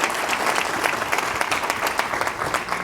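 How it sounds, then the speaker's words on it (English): A round of applause from attendees for the sponsors at the Florida Chamber Legislative Fly-In business event, dense clapping from a fairly close crowd, steady and full throughout. "I'm going to ask you all to give these folks a round of applause"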